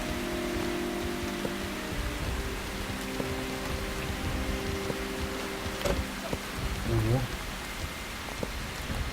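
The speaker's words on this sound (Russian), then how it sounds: "Шумит жесть, как дождь." Steady rain hisses and patters in the video game Calvino Noir, a dense close wash of drops under faint tonal background sounds, with a brief spoken voice near the end.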